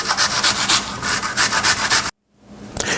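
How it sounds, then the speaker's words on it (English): A purple onion is rubbed against a kitchen grater in quick, rhythmic rasping strokes, fairly loud and close, that stop abruptly near the end before faint noise returns. "Now I'm going to grate some onion."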